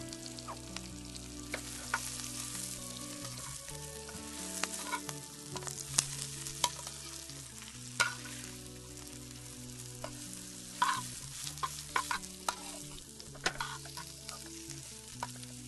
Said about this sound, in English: Add in my broccoli rabe to the carrots.